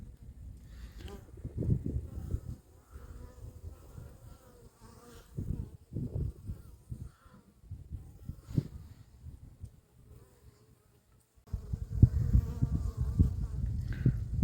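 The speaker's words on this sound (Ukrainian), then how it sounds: "Дивіться, як бджоли літають." Honeybees buzz and hum around the microphone at a hive in midwinter, swelling and fading as they fly past, with soft wind noise in the background.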